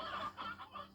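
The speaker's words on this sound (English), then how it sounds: "This chicken coop has got too many briars in it. They're called briar hens." Briar hens in the Slime Rancher video game clucking in a chicken coop, a run of short, close, repeated clucks with no talk.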